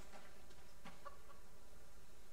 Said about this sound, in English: I see the chicken trying to cross the road.